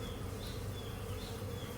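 Bees buzz around an exposed wild honey nest, a close, steady insect drone that is faint and continuous throughout the short moment.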